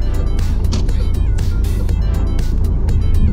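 A 2020 Peugeot 508 GT creeps along on its own during automated parking, its low steady engine and road rumble heard from inside the cabin, with occasional faint clicks.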